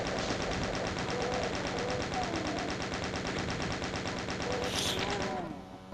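Chain gun firing continuously in the classic Doom video game, a rapid, even stream of gunshots at close range that holds for several seconds before stopping.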